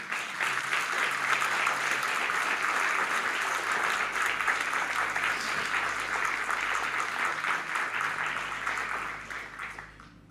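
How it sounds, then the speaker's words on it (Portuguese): A church congregation applauds together in a worship service, a steady wash of many hands clapping at moderate volume for several seconds before fading out near the end. "Você pode aplaudir ao Senhor?"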